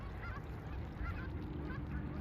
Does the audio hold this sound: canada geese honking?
yes